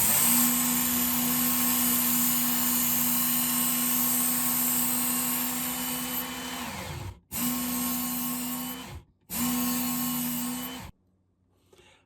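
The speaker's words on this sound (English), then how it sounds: "as I'm bringing that knife through, I'm angling it upwards so it always has contact with that belt" A fillet knife is drawn across a belt sharpener, the motor droning steadily with a grinding hiss, then winding down, briefly restarting twice and cutting off to near silence.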